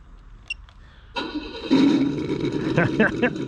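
An MFP Interceptor RC car fitted with an ESS One sound module lets out a synthetic engine note that jumps up from a quiet start into a loud, sustained rev with throttle, rising and falling as speech runs over it.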